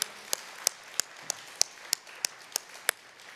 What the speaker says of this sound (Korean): 우리 주님께 우리 감사의 박수 올려드립니다.